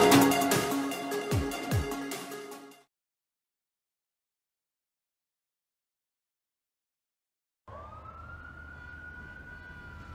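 An emergency vehicle siren, loud and close in the opening seconds with a sweeping wail, followed by a long silence and then a fainter, steadier tone over low rumble near the end.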